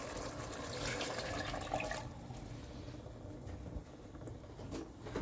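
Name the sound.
water being poured into a pot for lasagna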